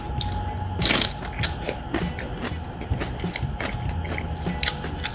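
Crisp crunching bites into the thick inner stalk of a pechay, a string of sharp, close snaps and cracks spread across several seconds, one especially loud near the start, over a low background hum.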